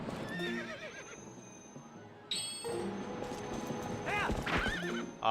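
Zelda: Twilight Princess game audio with a horse whinnying several times over rhythmic hoofbeats and a soft tonal music bed, with a sharp burst in the middle.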